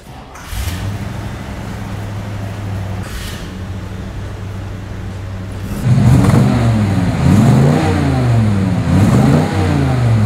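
A 1970 Chevrolet Chevelle SS396 engine cranks and settles into a low idle, then roars louder as it revs up and down several times, close and loud.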